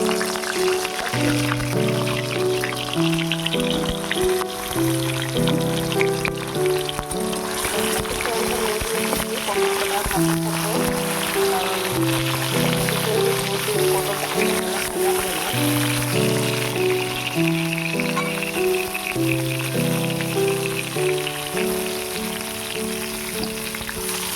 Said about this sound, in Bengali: আমার তেলটা গরম হয়ে গেছে, আর আমি তেলের মধ্যে পটলটা